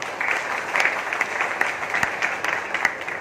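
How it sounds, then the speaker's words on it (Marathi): A seated crowd at a school gathering gives steady applause for the school's support staff, many hands clapping in a lively, continuous wash with a few sharper claps standing out. "तुमच्या सगळ्यांसाठी एकदा जोरदार टाळ्या वाजवल्या पाहिजे"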